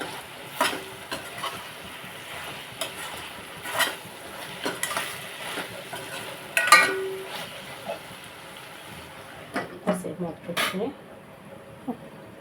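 Brinjal pieces and capsicum fry in a pan for a prawn and brinjal curry, with repeated close spoon scrapes and clinks against the pot over a soft sizzle, under intermittent talk.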